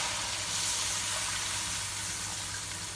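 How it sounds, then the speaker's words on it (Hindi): Water poured into fried masala in a pan, spitting and sizzling as it hits the hot oil while cooking a pakora shorba curry. A steady, close, loud hiss runs through the whole stretch without a break. "अब इसके अंदर हम पानी डाल देंगे।"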